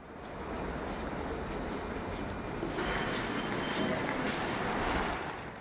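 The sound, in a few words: Seoul subway Line 2 train at Gangbyeon station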